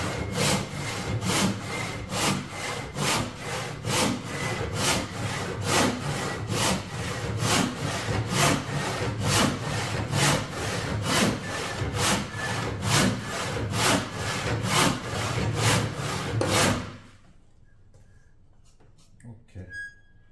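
A hand saw cuts through a wooden square-timber workpiece with steady, rhythmic back-and-forth strokes, loud and close, about two per second, before stopping into near silence with a few faint knocks.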